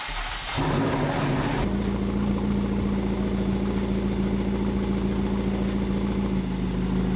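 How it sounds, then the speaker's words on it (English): McLaren 650S engine cold-starting with a short crank, then settling into a loud, steady fast idle that drones on close by. "So we're gonna go ahead and get that cold start."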